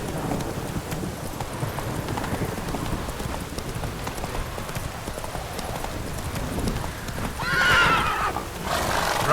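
Roach the horse from The Witcher 3 galloping in steady, close clip-clop hoofbeats over rain, with a whinny near the end.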